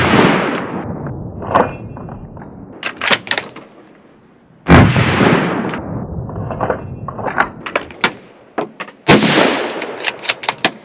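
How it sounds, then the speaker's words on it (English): Rifle fired through a UUQ 3-9x32 AOEG scope: three sharp, loud gunshots spaced a few seconds apart outdoors, each followed by a brief echoing tail, with some faint handling sounds between them. "3 in a row, quick shots"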